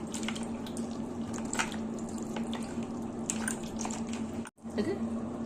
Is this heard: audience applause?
no